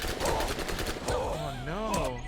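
SMG fire in Borderlands, rapid bursts of gunshots rattling loud and close while a voice talks over the shooting.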